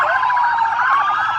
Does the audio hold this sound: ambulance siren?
yes